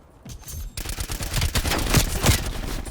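After a brief near-silent moment, an EM2 rifle in the video game Call of Duty Black Ops Cold War fires rapid, loud, close bursts of shots that continue to the end.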